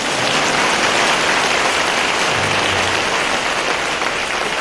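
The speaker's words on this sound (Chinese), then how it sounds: "现在该鼓掌。" Broad, even applause from a large audience at a Buddhist dharma assembly in Singapore, a thick rain-like wash of clapping held steady and loud for several seconds without speech.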